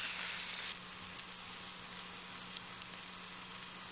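Butter, garlic and mushrooms frying in a pan with parsley, a steady soft sizzle with faint stirring scrapes, fairly quiet and with no voice.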